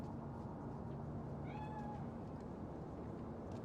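A cat meows once inside the video game Cyberpunk 2077, a short rising-and-falling call heard over a steady dense ambient background hum, moderately faint.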